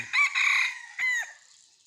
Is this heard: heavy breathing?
no